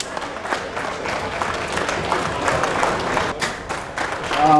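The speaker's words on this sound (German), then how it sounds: "Applaus für die Herren" Crowd applause and clapping after a giant cheese is cut in half at a world-record event, a dense, fluctuating patter of many hands with some crowd noise, swelling louder toward the end.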